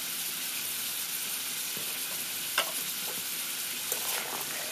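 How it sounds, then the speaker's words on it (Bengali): Diced potatoes fry in a pan with salt and turmeric, giving a steady close sizzle with occasional stirring scrapes and small pops, no voices. "লবণ ও হলুদের গুঁড়ো দিয়ে এবার আলুটাকে খুব ভালো মতো ভেজে নিতে হবে।"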